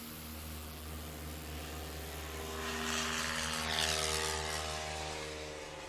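A STOL competition airplane taking off at an Appalachian Mountain short takeoff and landing event, a steady propeller engine drone at moderate distance that swells and rises midway, with no talking.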